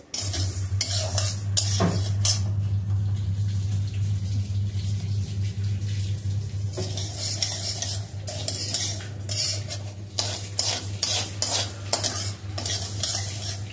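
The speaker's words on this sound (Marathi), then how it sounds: "आता आपण तांदूळ भाजतोय." Rice dry-roasting in a pan for thalipeeth bhajani, a continuous scraping stir with repeated sharp spoon strokes over a low steady hum, close and fairly loud.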